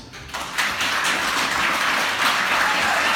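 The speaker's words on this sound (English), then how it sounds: "stand and receive the applause of your guests" Wedding reception guests applauding the couple, clapping that starts abruptly after a brief quiet moment and swells into a full, sustained round of applause filling the room.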